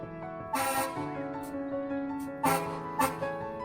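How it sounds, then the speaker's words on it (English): A fire truck's horn sounds during a short ride around the block at a charity wish event, loud sustained honking blasts with a brief pause between them, mixed with crowd and ambient noise. "She got to honk the horn."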